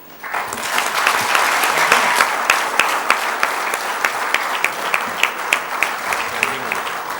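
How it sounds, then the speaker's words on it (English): Loud applause fills a convention hall at an inaugural function, rising quickly and holding as a dense crowd sound, then settling into slower, spaced individual claps toward the end. "I would expect a much louder applause for it."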